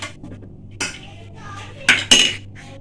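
Fried gulab jamun dropped into sugar syrup, heard as a handful of close, sharp metallic clinks and clatters from a spoon and pot against a low steady hum, loudest near the end.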